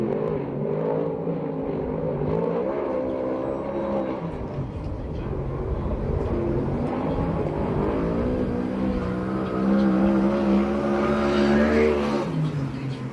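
A 360 sprint car at the Perris, California USAC/CRA championship running a qualifying lap, its engine rising and falling in pitch as it circles the track, swelling louder toward the end.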